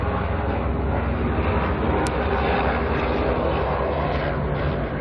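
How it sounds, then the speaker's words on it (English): A police helicopter circles overhead at night, its engine and rotor making a steady, loud, close roar that holds for the whole stretch with no talking. "It's definitely a police helicopter."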